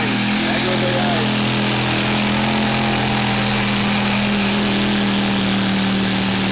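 An 860kg open mini modified tractor pulling engine roars steadily and loud at full power off the start line, a dense continuous drone with a strong low hum, with a commentator's voice over it.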